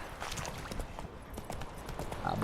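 Roach, Geralt's horse in The Witcher 3, trotting along with steady hoofbeats in a quick, even rhythm that stays fairly close and moderately loud for the whole stretch.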